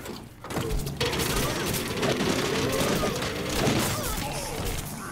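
Gunfire rattles through a firefight in Plants vs. Zombies: Garden Warfare 2, with dense rapid shots, impacts and booms layered into a loud, busy stretch of game combat.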